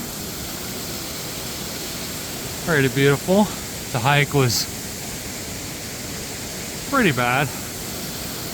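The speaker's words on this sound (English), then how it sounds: "Little twin peak waterfall there." Steady broadband roar of a small twin-stream waterfall in the Hoh Rainforest of Olympic National Park, constant and fairly near, with a few short bursts of talk over it.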